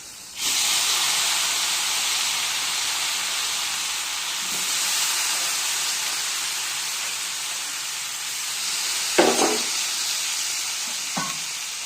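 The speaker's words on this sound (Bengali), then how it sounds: "আলুগুলোকে একটু ফ্রাই করে নেব লাল লাল করে" Potatoes fry in hot mustard oil for an egg and potato curry, giving a steady, bright sizzling hiss close up. The sizzle stays constant throughout, with a few brief clinks or stirs near the end and no voices.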